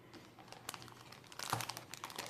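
Soft, close crinkling of a plastic bag filled with 1.5 cups of pressure-cooked pumpkin puree, quiet rustles and crackles in short bursts.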